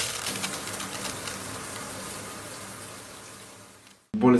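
A shower runs as a steady broadband hiss of falling water, constant and fairly close, fading slightly before cutting off abruptly near the end, followed by a brief louder clatter.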